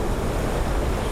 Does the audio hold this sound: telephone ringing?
no